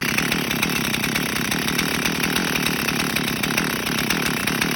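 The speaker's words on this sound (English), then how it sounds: "to get the chainsaw to start up" A Husqvarna 61 chainsaw engine, freshly carburetor-rebuilt, runs at a steady, loud idle with a buzzing rattle that holds constant throughout, without revving up or down.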